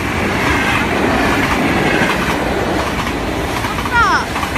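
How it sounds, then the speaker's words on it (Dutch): A train rumbles past on rails in Nieuwstadt, a steady, loud, close roar of wheels on track that holds throughout, with a brief wheel squeal near the end. "Kom rechts een trein."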